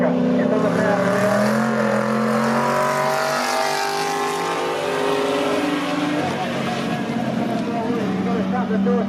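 Race cars roar on a dirt track, engines accelerating with a loud, sustained drone that rises and shifts in pitch, heard close and continuous over an entire stretch of the race.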